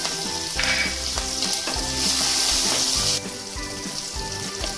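Chopped ginger and green chilli sizzling loudly in a hot pan while being stirred for a masala pasta, a constant bright frying hiss with rhythmic scrapes of the spoon, easing slightly near the end.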